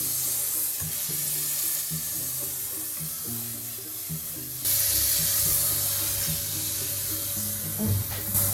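Butter sizzling in a hot frying pan, a steady close hiss and crackle that runs throughout and grows louder partway through, with some clinking in the background.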